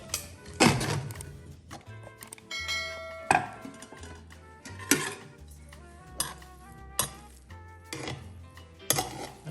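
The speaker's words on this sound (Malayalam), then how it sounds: "നമുക്ക് കുക്കർ തുറന്ന് നോക്കാം." A pressure cooker of rice is opened in a home kitchen, giving a series of sharp metallic clanks, knocks and lid rattles spaced irregularly over quiet pauses, close and moderately loud.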